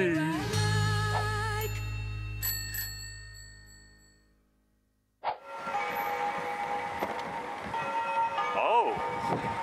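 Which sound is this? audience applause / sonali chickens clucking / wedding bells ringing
wedding bells ringing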